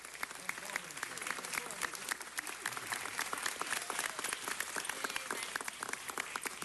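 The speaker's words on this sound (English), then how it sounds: "let's give them a big round of applause" Audience in a Los Angeles City Council meeting chamber applauds Iranian American city employees being recognized, a steady, fairly distant wash of many hands clapping with sharp individual claps standing out, lasting throughout.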